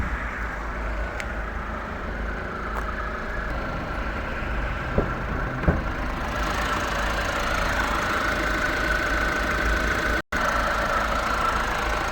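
A 1.6-litre diesel engine in a 2017 Peugeot 3008 automatic idles steadily nearby, a constant low rumble with a faint clatter and no talking.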